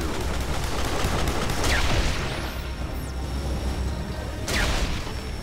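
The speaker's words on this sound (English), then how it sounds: "Don't shoot me with your stupid pistols." Pistol gunfire in Duke Nukem Forever, scattered shots and booms within a noisy, continuous battle din, with occasional whooshing sweeps passing through.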